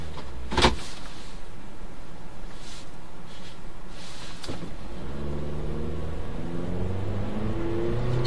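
A 2014 Toyota Altis with a CVT accelerates from a standstill in sport mode, its engine rising into a steady, sustained drone with a brief sharp click early on, heard alone without talk.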